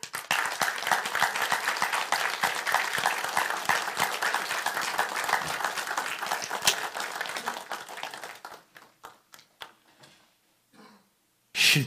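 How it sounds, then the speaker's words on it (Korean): A crowd at a New Year sermon gathering breaks into sustained loud applause that thins to scattered claps and fades out, followed by a short final burst. "박수!"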